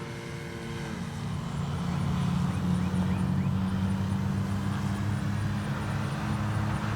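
A CNHL Bison XT RC airplane comes in for a landing on a grass field, its electric motor droning steadily at moderate distance over rustling outdoor background noise.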